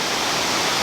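At the top of the Saluopa waterfall, falling water makes a constant, loud broadband roar that stays even and close throughout, with no voices.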